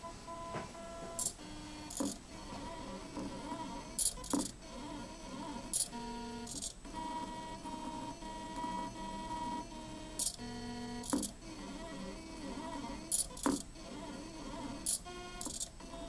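An EggBot pen plotter drawing a hello-world design, with steady stepper-motor whirring and tonal whines that shift pitch as it moves, broken by short clicks and pen lifts, continuous and close with no talking.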